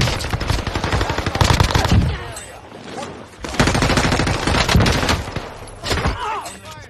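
Gunfire in a video game shooter: loud bursts of automatic rifle fire and rapid shots, nearly continuous and close, with a short lull midway.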